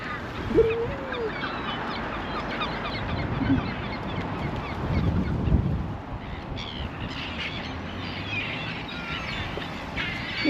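Ducks and other birds calling along Petone Beach in New Zealand, with scattered honks and quacks, one sharp call near the start, over steady shoreline ambience.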